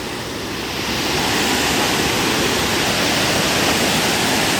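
Catherine waterfall in South India near Coonoor sends up a steady, dense roar of falling water that swells slightly at first and then holds loud and even throughout.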